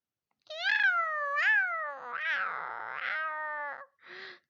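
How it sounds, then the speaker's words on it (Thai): A single cat gives several drawn-out, wavering meows in close succession, near and clear against silence, ending with a short final mew. "เจ้าแมวน้อย"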